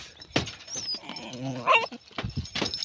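A pet dog whimpering and yelping nearby in short whiny bursts with a rising moan in the middle, mixed with brief background noises.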